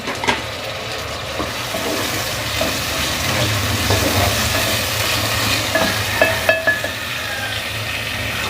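Steady sizzling of tomatoes and green chillies frying in a pan, with occasional stirring clinks and scrapes, close up and continuous with no talking.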